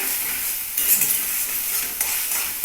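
Egg and potato dhoka mixture fries in oil with a steady, close sizzle, stirred now and then with a few scraping bursts, and no voices.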